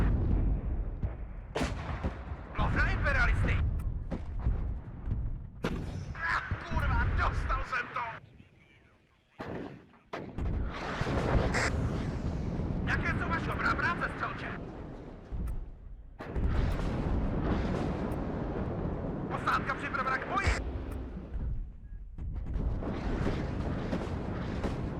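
Mortar rounds and explosions rumble through a WARNO battle, with dense, loud stretches of booming fire and rolling blasts broken by a short lull partway through.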